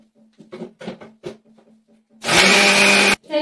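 A mixer grinder grinding soaked rice and urad dal, a loud steady motor whine lasting under a second after a stretch of faint clinks and knocks, followed by more quiet handling.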